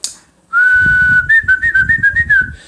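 A whistle or simple flute plays a loud, clear held note, then a quick run of short rising and falling tones close up, with nobody speaking.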